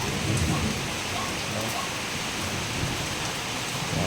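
Steady, dense rain pours down, a constant broadband hiss with no pauses, close and fairly loud throughout.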